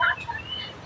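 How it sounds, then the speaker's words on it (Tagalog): A brief, faint turkey gobble heard at a distance outdoors, a single short warbling call fading against quiet background. "Narinig niyo yung mga ibon, mga kaburakday oh."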